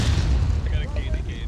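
A deep, booming cannon blast rumbles in American Civil War game audio, followed by fainter high whistling tones as the low roar fades.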